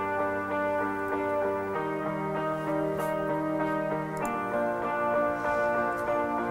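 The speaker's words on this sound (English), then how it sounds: "There's actually a lot of guitars stacked on top of each other." Seven or eight guitar takes stacked into one thick, sustained layer that holds steady chords and changes harmony a few times, at a moderate level with no voices.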